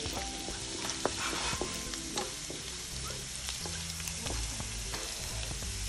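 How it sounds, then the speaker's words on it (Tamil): Ginger, garlic and cashews sautéing in oil, a low, steady sizzle with occasional stirring scrapes and taps, close but quiet, with a hum underneath and no talking. "இஞ்சி போட்டாச்சு, முந்திரி பருப்பு இதை போட்டு நல்லா முதல்ல வதங்கிட்டோம்"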